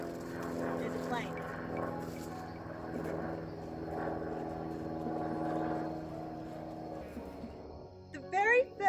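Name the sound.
airplane flying overhead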